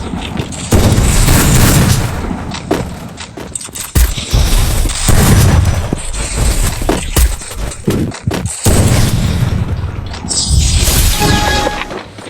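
A shooter video game plays loud, close gunfire: rapid bursts and single booming shots with crashing impacts, coming in dense clusters separated by short lulls.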